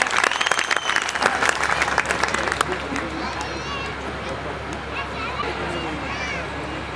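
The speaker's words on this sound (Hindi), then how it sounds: "एक बार तालियां बजा के फिर मुझे याद रखना।" An audience at a kavi sammelan poetry gathering claps loudly and densely for about three seconds, then the applause thins into a softer wash with crowd murmur and voices underneath.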